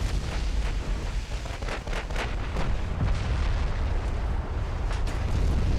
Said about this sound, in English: Ooh, we got a flash fire.